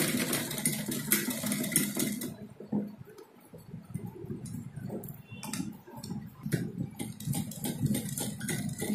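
Sewing machine stitching the folded edges of a designer blouse sleeve, a fast steady ticking mechanical run that pauses briefly midway before resuming, close and fairly loud.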